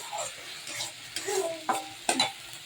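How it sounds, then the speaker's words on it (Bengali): Ginger and spices frying in a pan are stirred with a utensil, giving a few short scraping strokes over a soft, close sizzle, with brief louder scrapes toward the end. "এটা ভালো করে একটু নেড়ে নেবো যাতে যে আদার যে একটা কাঁচা গন্ধ থাকে সেই গন্ধটা চলে যাবে"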